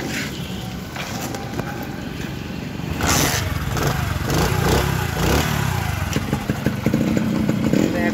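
A Pakistani-model Honda CD80 motorcycle idles close by with a steady, buzzing putter, then the engine is revved a little louder with uneven rises and clattery mechanical ticking throughout.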